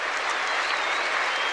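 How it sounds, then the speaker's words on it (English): A dense, continuous roar of applause from a full stadium crowd at the 1979 Australian Open tennis final, loud and unbroken throughout. "the whole stadium rising to its feet to applaud the tournament's #1 seed"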